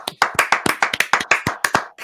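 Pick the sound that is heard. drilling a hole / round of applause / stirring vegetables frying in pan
round of applause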